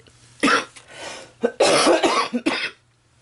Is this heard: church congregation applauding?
no